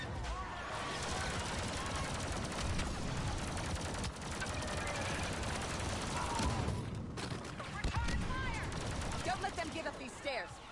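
Dense blaster fire from a Star Wars Battlefront 2 battle rattles on in rapid, overlapping volleys throughout, with players talking over the shooting.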